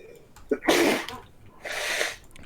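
A person sneezes close to the microphone, with a sharp burst followed by a second breathy burst a moment later, against quiet room background.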